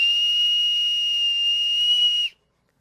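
A small handmade wooden whistle gives one sustained, shrill, steady tone held for about two seconds, then cuts off abruptly into silence.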